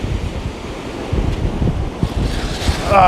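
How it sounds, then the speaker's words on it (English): Ocean waves rolling onto a beach during metal detecting, a continuous rushing surf with wind buffeting the microphone, building louder toward the end. "So watch the waves keep coming in."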